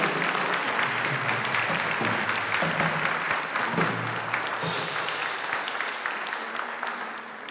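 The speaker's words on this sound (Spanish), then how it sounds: "por favor, démosle un fuerte aplauso" A congregation applauds during a Catholic Mass in church, a dense, sustained wash of clapping that holds steady and then slowly thins toward the end, with no speech over it.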